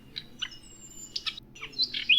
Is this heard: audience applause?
no